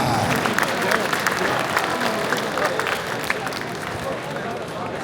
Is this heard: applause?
yes